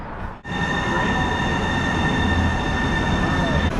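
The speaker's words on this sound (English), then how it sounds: "the train needs to go into the tail track and turn around" Seattle light rail train moving along the track, a loud continuous rumble with sustained high whining tones from the motors and wheels, heard close from on board after a brief dip at the start.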